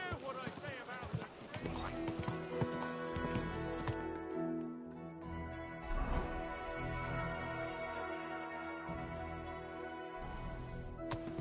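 Hooves clip-clop in a continuous rhythm as a horse moves through a town in the video game Kingdom Come: Deliverance II, with game music and voices talking over it.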